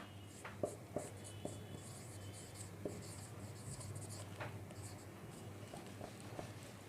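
A pen scratching on paper while working through an income tax problem, with faint intermittent strokes and taps under steady background hum, close and quiet.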